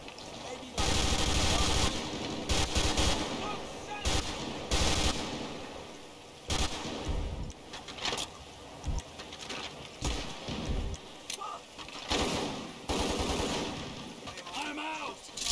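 Loud bursts of automatic gunfire in GTA 5, coming in several separate volleys with short gaps between them, while voices talk over parts of the shooting.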